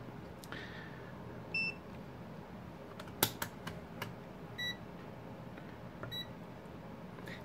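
Two digital multimeters switched to continuity mode give a few short, faint electronic beeps among soft clicks and handling noises, in a quiet room with no talk.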